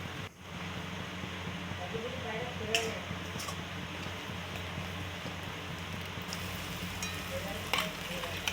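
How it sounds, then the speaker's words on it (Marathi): Tomato puree sautéing in spiced oil for a Vidarbha-style green peas curry, giving a steady, moderate frying sizzle throughout with a low background hum and a few faint clinks. "टोमॅटो प्युरी छान अशी परतून झाली"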